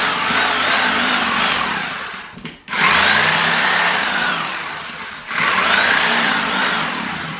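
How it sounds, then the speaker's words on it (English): A Sawzall reciprocating saw cutting into a pumpkin, a loud close buzzing whine with a rising pitch that runs in two long bursts, broken by a brief pause and a short dip before the final burst. "that is a Sawzall"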